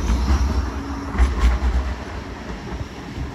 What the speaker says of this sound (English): So this is your normal kind of tram, which will stop.